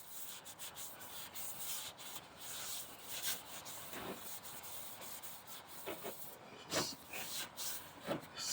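A rag soaked in degreaser rubs and wipes across the engine of a 2007 Toyota Avalon during a home oil change, giving close, steady scrubbing strokes with a few sharper swipes and no talking.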